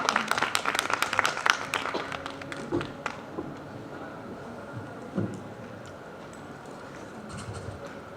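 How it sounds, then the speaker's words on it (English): Audience applause welcoming panelists onto a stage at a panel discussion, lively clapping at first that quickly thins out and fades to scattered claps and room noise. "Please welcome them on stage with a big round of applause."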